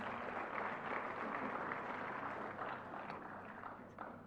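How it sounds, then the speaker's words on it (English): Audience applause at the Solar Decathlon India 2023 finals, a broad steady wash of many hands clapping that fades slightly toward the end. "A very big round of applause for them, please."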